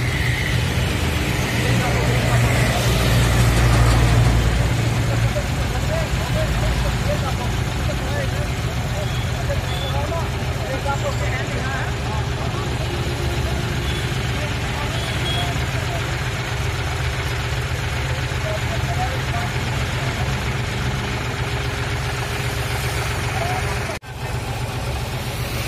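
A new John Deere 5105 40 HP tractor engine idles with a steady low rumble throughout, close by, while someone talks over it.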